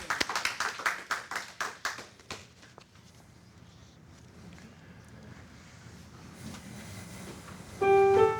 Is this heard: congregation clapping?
yes